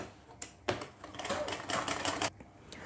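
A sewing machine stitches a seam on ladies' pants in a short rapid run of needle clatter lasting about two seconds, fairly quiet and close.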